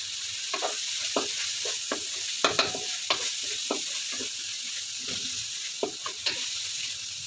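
Half a kilo of ground pork fries in a pan for spaghetti, a steady sizzle punctuated by repeated spatula scrapes and taps as it is stirred, close and clear with no talking.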